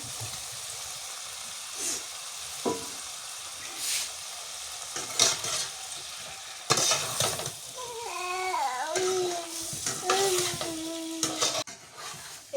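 Loitta fish goes into a pan of frying tomato masala with sizzling and scraping stirs, irregular clatters and bursts of frying noise, while a cat meows repeatedly in the background.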